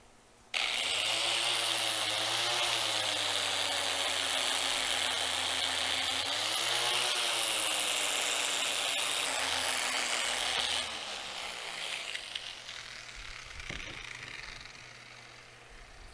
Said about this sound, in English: I'm going to just take that wire brush wheel to this, clean that up, and I'm going to do both sides.